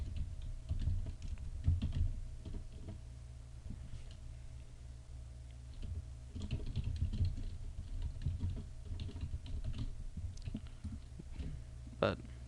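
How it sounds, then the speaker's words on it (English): Quiet, close computer keyboard typing with scattered key clicks and taps, continuing unevenly over a low background hum. "you can even type in your own little comment"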